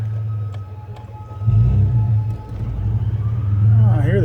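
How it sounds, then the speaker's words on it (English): Emergency vehicle siren heard faintly in the distance on a street, with a wavering, rising tone near the end over low traffic rumble and engine noise. "I hear the sirens going off somewhere."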